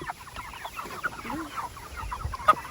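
Meat chickens cluck in their pen, a busy overlapping chatter of many birds close by, with a sharper squawk near the end and faint background noise underneath.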